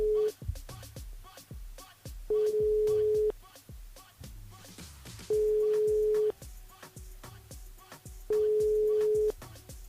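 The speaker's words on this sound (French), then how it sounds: "on la rappelle sur le standard Yorina, sur le standard par ici" A phone ringback tone sounds as a radio host calls a listener back through the station switchboard, with three long even beeps repeating at regular intervals over thumping background music.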